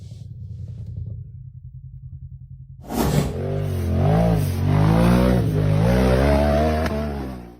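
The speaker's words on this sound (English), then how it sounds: "The off-road buggy roared up a steep rock face in the forest, fighting for traction." An off-road 4x4 buggy climbs a steep rock face in a forest. A low idling rumble gives way to a sudden loud engine roar, which rises and falls as the revs surge while it fights for traction.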